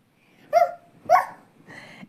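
A child imitates a dog barking, giving three short voiced woof sounds spaced about half a second apart, the last one softer, close to the microphone with nothing else heard.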